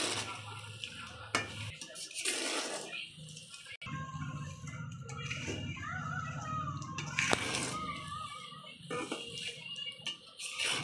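Peanuts roasting in hot sand over a clay stove, a steady gritty rustle and scrape of sand and shells being stirred in the pot, fairly close, with a few sharper knocks and faint background voices.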